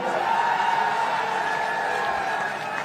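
An audience at a district-level rural and urban Olympic games event in Rajasthan applauds steadily, a dense wash of clapping with some cheering, moderately loud and sustained.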